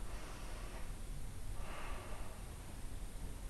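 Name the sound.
deep breath in before a story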